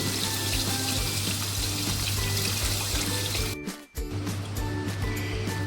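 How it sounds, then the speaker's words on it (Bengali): Water is poured into a Bengali tangra fish curry with taro stems, cooking in spiced oil; a steady, close, continuous pouring and splashing runs throughout, briefly broken by a short lull near the end. "এইবারে জল দিয়ে দেব ট্যাংরা মাছের প্রচুর ঘাটি দিয়ে ঝোল"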